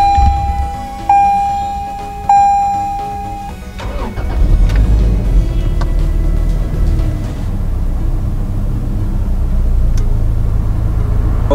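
A 2020 Toyota Prado's engine cranks and catches after a few chime tones, then settles into a steady, close, fairly loud idle with no talking.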